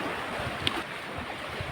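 Strong wind blowing over a bay in Oriental Mindoro, a steady broadband rush with faint lapping water, fairly loud and continuous with no voices.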